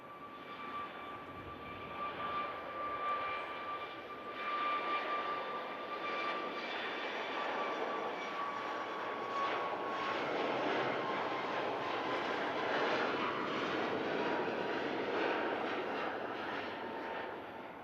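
Boeing 737 MAX jet from SunExpress taking off from Manchester Airport, a steady broad engine roar with a whining tone that holds loud and continuous throughout, no voices.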